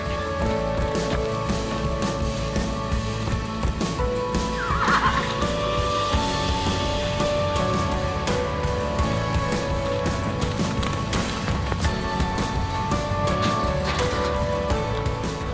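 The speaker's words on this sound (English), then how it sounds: "I'm gonna be videoing the horses running down to pasture 8." Horses move down to pasture, with a clear whinny partway through, faint hoof thuds and outdoor background noise throughout.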